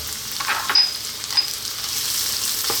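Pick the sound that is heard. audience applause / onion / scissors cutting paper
onion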